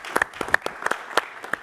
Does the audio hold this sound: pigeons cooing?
no